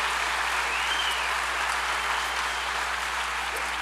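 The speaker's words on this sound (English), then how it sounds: "So one more round of applause for Diana Gabaldon." Sustained audience applause after an opening address by Diana Gabaldon at the 2018 SBF, an even, dense wall of clapping from a large crowd with a low electrical hum underneath.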